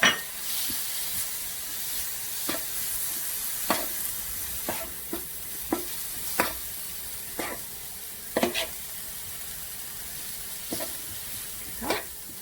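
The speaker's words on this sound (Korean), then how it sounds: "여기에다가 김치를 넣고 같이 볶아줘요." Kimchi and meat stir-fry in a pan with a continuous bright sizzle, broken by a dozen or so sharp scraping clicks of a utensil against the pan at an irregular rhythm, close and clear with no talking.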